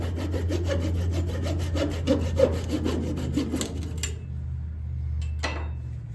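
Rhythmic scraping and sawing through wood as a wooden bowl is cut off a lathe, back-and-forth strokes for several seconds, then stopping, followed by a couple of brief clicks.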